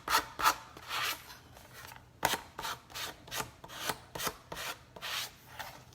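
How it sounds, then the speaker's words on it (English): Repeated rasping strokes of sandpaper on a wooden jack-o-lantern craft cutout, smoothing off the excess, about a dozen close, fairly quick strokes with brief pauses, no talking. "this process is getting rid of that. It's sanding off that excess."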